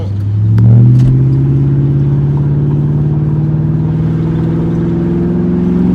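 A 2003 Lincoln Town Car with muffler and resonator deleted rumbles loud and close under light throttle as it picks up speed, a deep raspy drone rising and then holding steady, with no talking.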